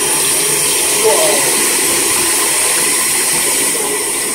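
Water runs steadily from a sink faucet in a continuous even hiss and splash, close and fairly loud, with no break across the whole stretch.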